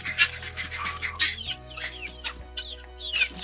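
Chickens cluck and chirp in short, scattered calls, fairly close, with a steady low hum underneath.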